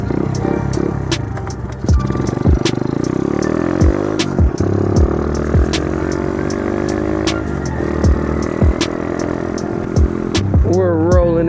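An Icebear Champion 125 motorcycle, a CT70 clone, idles and revs close by with a loud, continuous engine drone and several rising throttle blips alongside clatter and scraping.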